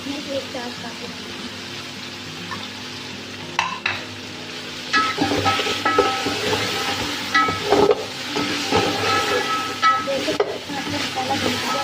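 Masala frying in a pan while being stirred, with continuous sizzling and intermittent scraping and clinking of the spoon against the pan, close and fairly loud under occasional talk.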